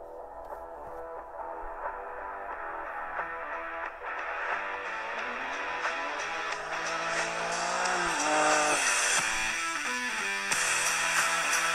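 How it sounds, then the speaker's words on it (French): A small rally car engine revving under upbeat background music, the motor droning and rising steadily throughout at moderate loudness. "Très sympa la petite musique avec le petit vroom de la voiture."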